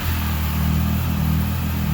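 A Triumph Daytona 675 motorcycle engine, one that had trouble starting, runs steadily up close with a low, even drone and slight rhythmic pulsing throughout, with no voices.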